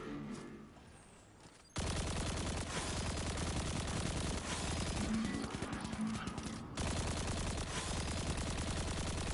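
Sustained enemy gunfire in the video game Destiny 2, a dense loud fusillade of rapid shots that begins abruptly after a quieter opening and continues with a brief dip.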